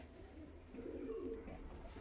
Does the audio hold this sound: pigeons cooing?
yes